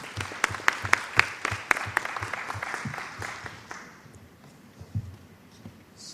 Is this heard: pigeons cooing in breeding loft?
no